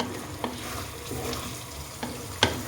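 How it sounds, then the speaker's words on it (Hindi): Butter or ghee goes into makhni chicken in a handi on a low flame, giving a steady soft sizzle with a few sharp clinks and taps at a close distance. "आखिर में इसमें 2 टेबलस्पून मक्खन डाल लें या असली घी डाल लें"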